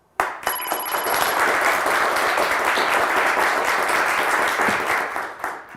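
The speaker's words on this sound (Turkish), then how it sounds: "O sırada Özlem Hanım alkışlamaya başlamıştı." Studio audience applause on a Turkish TV word game show, a dense steady wash of clapping that starts abruptly and holds loud for several seconds before tapering at the end.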